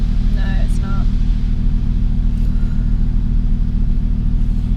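An Audi R8 RWD being driven, with a steady, loud, low engine and road rumble from inside the cabin throughout and brief talk near the start.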